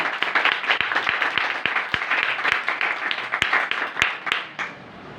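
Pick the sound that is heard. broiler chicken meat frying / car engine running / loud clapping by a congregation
loud clapping by a congregation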